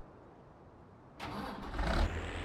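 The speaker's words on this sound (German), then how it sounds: "springt Motor wieder an" A vehicle engine in Farming Simulator 19 starts at a gas station, a quiet hum breaking abruptly into a louder rumbling idle that swells briefly as it settles, with no voices.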